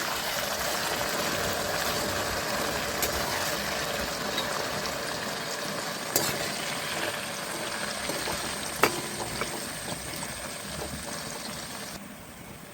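Jackfruit chips fry in hot oil while being stirred, a steady sizzling bubble with occasional light scrapes and clinks from the stirring, fairly close and alone.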